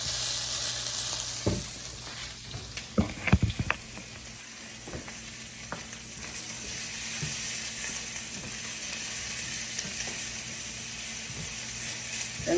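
Onions and bacon sizzle steadily in a pan for chili, a continuous frying hiss with a few brief clinks of stirring early on, no voices.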